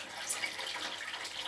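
Water runs in a steady splashing stream, poured to boil ducuna in a St. Vincent home kitchen, fairly faint and continuous with no talk.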